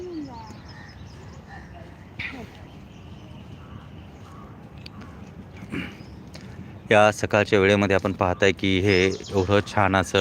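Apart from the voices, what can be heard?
sparrows chirping in park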